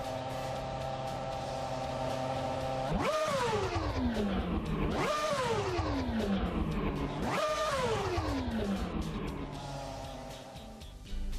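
BRC Formula Alpha F07 race car in the Assetto Corsa racing game, its engine revving hard through three rising upshift sweeps, each climbing steeply then dropping at the gear change, loud and steady throughout.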